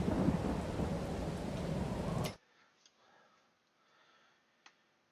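A Farming Simulator 22 storm of pouring rain and low thunder rumble roars for about two seconds, then cuts off abruptly to near silence with a few faint ticks.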